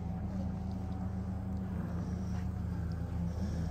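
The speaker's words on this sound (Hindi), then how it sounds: "वाटर स्कूटर से एंजॉय कर रहे हैं।" Steady low engine drone of water scooters (jet skis) running on Attabad Lake in Hunza, a constant motor hum with faint higher whine, no talk.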